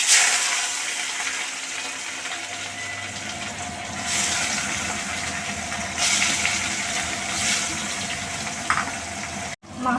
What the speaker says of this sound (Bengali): আমি এবার মাছটা ছেড়ে দেবো।